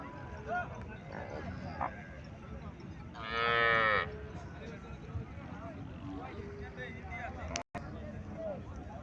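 A small local cow at a rural cattle market in Cumilla moos once, loud and close, about midway, over a steady bed of crowd chatter and market noise.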